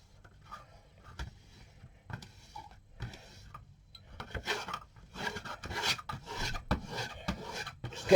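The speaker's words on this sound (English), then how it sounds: "I've got a little bit of worn leather here, as it's nice to use a bit of leather. And we just rub it." A Damascus knife blade rubbed back and forth on a piece of worn leather, giving soft rasping strokes in an uneven rhythm that grow louder and busier toward the end, close up with no talking.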